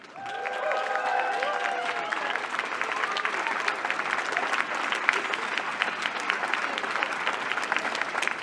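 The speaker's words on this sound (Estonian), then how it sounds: "Ja nüüd teeme veel ühe väga suure aplausi meie tänase festivali peakorraldajale" Crowd at a school's charity spring festival concert claps steadily for the festival's chief organizer, a continuous wash of hand claps with a few sharp louder slaps, kept at a moderate distance.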